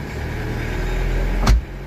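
A car engine runs steadily in first gear, a low continuous hum that builds slightly before a brief louder thump near the end, with no talking.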